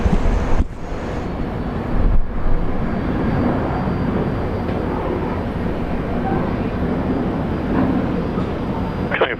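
A Fokker airliner in a special livery at Brisbane Airport gives a steady broad engine roar mixed with wind buffeting, holding an even level throughout with a few brief dropouts near the start.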